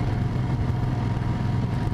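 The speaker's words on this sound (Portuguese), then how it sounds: "Vou dar uma puxada aí até o alto da serra, só para fazer um testezinho rápido aí do consumo dessa moto." A motorcycle climbs steadily up a mountain road, its engine droning loud and low in a continuous even hum with wind rush, no voices over it.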